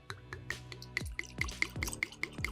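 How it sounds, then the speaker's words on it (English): 13th Colony cask strength Southern bourbon poured from a bottle into a glass, a close, quiet run of rhythmic glugging drips with bright liquid plops, alone without talk. "let's pop this one open and pour some out"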